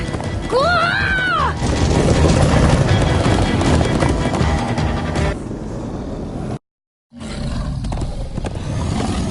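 Horses gallop with clip-clop hoofbeats in the game Minecraft Story Mode, loud and continuous, joined early by a rising whinny-like cry and roaring game effects, then cut by a brief silent gap before the gallop resumes.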